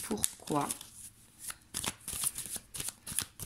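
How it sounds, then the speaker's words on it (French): Tarot cards are gathered and covered by hand in quick papery shuffles and flicks, a brief voice near the start, then a run of crisp card snaps spaced through the rest. "Ici, on va recouvrir les 4 cartes."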